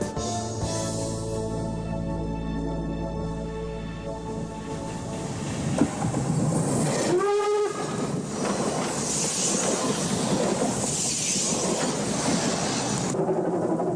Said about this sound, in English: The train is approaching the steepest part of the journey, a slope of 20 degrees.